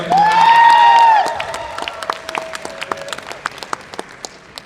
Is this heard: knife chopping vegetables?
no